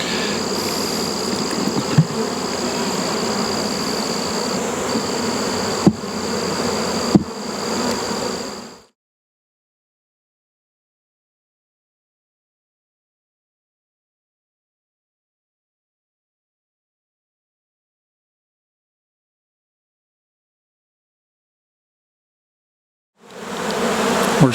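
Honey bees buzz around open hives in a beeyard, a dense, steady drone close by for several seconds with a few knocks, then a long silence before the buzzing briefly returns.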